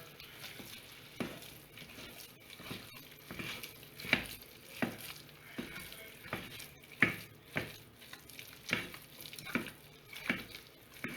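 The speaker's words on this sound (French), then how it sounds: "Faut bien mélanger jusqu'à que la pâte soit bien homogène." A spoon or spatula works thick gluten-free choux dough for gougères around a pan, giving soft, regular scraping and slapping strokes about once a second, quiet and close, with no talking.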